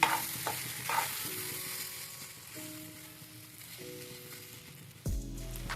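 Soaked sago stirs together with salt and sugar in a pan: a few scraping strokes early and a soft sizzle over a steady tonal background, ending in a louder bump.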